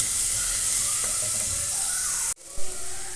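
Ginger garlic paste frying with coconut pieces in a hot pan, a loud, steady close hiss that cuts off abruptly, followed by a brief clink and a softer sizzle.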